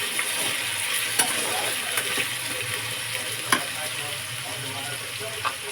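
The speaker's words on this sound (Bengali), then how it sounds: "আলুটা একটু ভাজা হবে।" Potatoes fry in a pan with a continuous close sizzle, broken by a few sharp clicks and taps, probably a utensil against the pan, and no clear talking.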